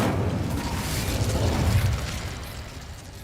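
A burst of the Incendio fire spell in Hogwarts Legacy, a rough whooshing blast that swells for a couple of seconds and then fades, with no talking.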